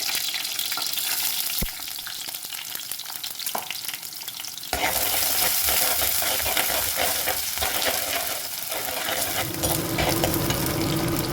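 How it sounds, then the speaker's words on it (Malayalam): Fenugreek seeds frying quietly in hot oil, then garlic and ginger tossed in, and the sizzle jumps to a loud, dense crackle that carries on with occasional stirring scrapes, close by and with no one talking. "ഉലുവ ഇട്ടതിന് ശേഷം ഞാൻ അത് ഗാർലിക് ഇടുകയാണ് കൂടെ ഞാൻ ജിഞ്ചറും കൂടി ഇടുന്നുണ്ട്"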